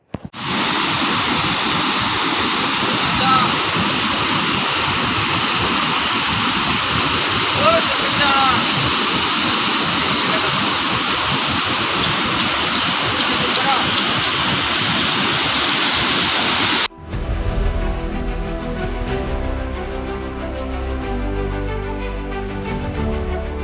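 A loud, constant roar of rushing water from 62 opened gates of Ajwa dam after continuous rain fills most of the clip, heavy and continuous, before cutting abruptly to something else near the end.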